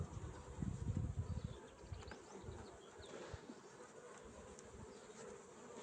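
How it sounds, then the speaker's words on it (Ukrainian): Honey bees buzz and drone around a reed hive, with a louder burst of close buzzing early on, then a steadier hum, faint birds in the background. "бджоли набагато краще стали літати"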